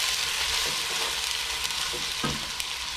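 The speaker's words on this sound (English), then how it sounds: "we start off by frying our onions" Onions sizzle and crackle in a hot pan for vegetable stew, a steady bright frying hiss with a few soft clicks of stirring.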